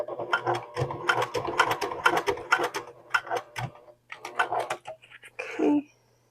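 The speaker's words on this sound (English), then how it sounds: "I'm using a longer stitch length because I can." A sewing machine basts a seam at a long stitch length, its needle clattering in quick rhythmic bursts, pausing briefly, then running again before stopping.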